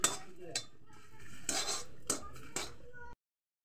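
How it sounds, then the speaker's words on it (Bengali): Chillies are dry-roasted in an empty karahi: about five sharp metallic clanks and scrapes of a spatula against the pan, fairly close, then the sound stops abruptly. "লঙ্কাগুলো খালি কড়ার উপরে দিয়ে আমি হালকা ভেজে নিচ্ছি"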